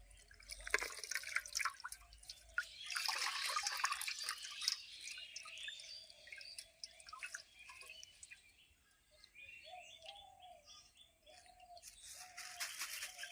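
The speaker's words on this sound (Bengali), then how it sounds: "এই দেখো বালতির জল নিয়ে আসছি এই জলের মধ্যে এখন মালাটা ডুবে দেবো" A flower garland dipped into a bucket of water gives wet dripping and splashing sounds, busiest early on, with faint bird chirps in the background.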